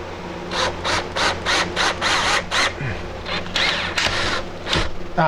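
A cordless drill drives screws overhead into a drywall ceiling, giving a run of short, loud whirring bursts in a steady rhythm, then a few scattered bursts with scraping and knocks.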